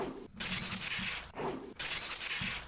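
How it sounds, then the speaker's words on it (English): Glass windows shattering in the Higurashi visual novel game: two loud, close crashing bursts of breaking glass, each a sustained bright smash separated by a brief pause, with no voices. "I smashed all the glass windows too,"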